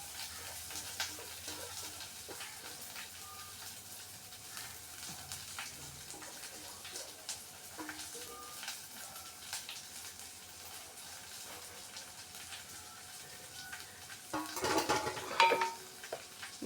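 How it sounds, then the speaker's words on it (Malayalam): Chopped drumstick leaves and onion fry softly in a pan, a faint steady sizzle with light scraping, building to a louder clatter of a spoon stirring against the pan near the end. "അപ്പം ഞാനിത് മുരിങ്ങയിലയും സവാളയും കൂടി അരിഞ്ഞതാണ് ഞാൻ ഇടാൻ പോകുന്നത്."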